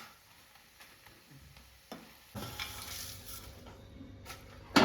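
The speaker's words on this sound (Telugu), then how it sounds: "ఇప్పుడు ఇవి వేపుకుందాం" Ingredients for a coriander and mint chutney frying in a pan, a quiet sizzle that grows louder partway through, with occasional scraping of the stirring spoon.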